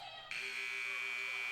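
A final buzzer at a women's college basketball game blares as a loud, steady electronic tone that starts abruptly and holds to the end over a quiet arena background.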